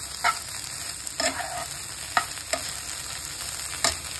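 Garlic and green chillies sizzle in a pan, a soft steady frying hiss broken by several sharp clinks and scrapes of a spoon stirring, close and fairly quiet with no voices.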